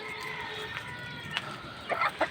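Hens circling someone's feet in hope of feed give a couple of short, soft clucks near the end against a quiet, faintly hissy background.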